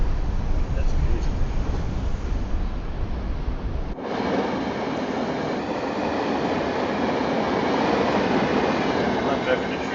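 A train in Train Sim World 6 on the New York to Stamford line: steady rolling rumble and rail noise throughout, shifting in tone partway through as the carriage sound changes, with a voice over it.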